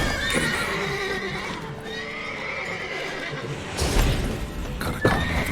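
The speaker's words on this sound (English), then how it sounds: "Gotta calm all the horses before you wake the guards." Several horses in The Witcher 3 video game whinny and stamp, shrill neighs rising near the start and again toward the end over restless hoof clops and thuds.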